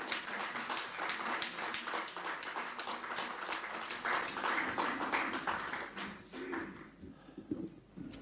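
An audience at a talk on pension and labour law applauds the speaker, a dense run of clapping that fades toward the end.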